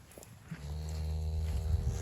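Cattle in a snowy paddock, one cow giving a long, low moo that swells and holds for over a second, close and clear with a little shuffling before it.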